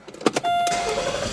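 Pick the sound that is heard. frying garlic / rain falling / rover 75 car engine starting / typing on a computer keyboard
rover 75 car engine starting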